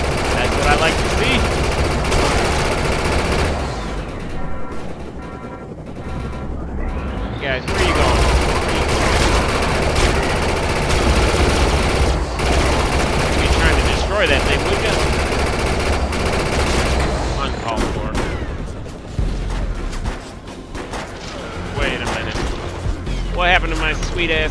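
Minigun fire in the video game Defiance 2050, dense sustained bursts of rapid automatic shots with booming impacts, loud and nearly continuous, with someone talking over parts of it.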